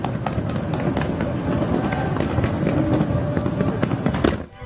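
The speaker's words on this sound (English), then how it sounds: "the flash and the bang of firecrackers and fireworks scare away demons and evil ghosts" Fireworks and firecrackers explode continuously in a dense crackling barrage, loud and close throughout, with many overlapping pops and bangs.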